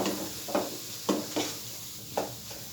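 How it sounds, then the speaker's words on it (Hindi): A thick barfi mixture is roasted in oil and stirred in a pan. Four soft scraping strokes come at uneven intervals over a faint, steady sizzle. Nobody speaks. "अब इसकी मैं अच्छी तरह भुनाई करूँगा यहाँ तक कि ये पेंदे को छोड़ दे"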